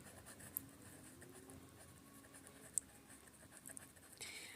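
Pen or pencil scratching across paper while a Class 8 algebra problem on linear equations is worked out by hand, a soft continuous scribble with a few light taps, faint and close with no talk.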